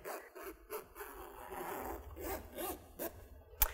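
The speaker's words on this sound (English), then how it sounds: "You can zip the zipper back up." A zipper on a sewn snowflake pillow cover is pulled closed in several quiet, scratchy strokes, with soft fabric rubbing between them and a sharp click near the end.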